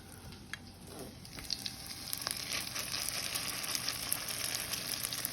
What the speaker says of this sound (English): I'm gonna fry this one up and see what happens